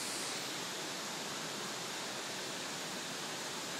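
Aberdulais waterfall rushes in a steady, dense roar of falling water, loud and unbroken from start to end with no voices.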